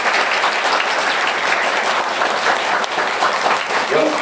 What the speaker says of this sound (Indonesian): Tepuk tangan yang meriah semua.